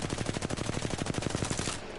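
Rapid automatic gunfire from a weapon in the Apex Legends firing range, a steady burst of evenly spaced shots lasting nearly two seconds before cutting off abruptly, loud and close.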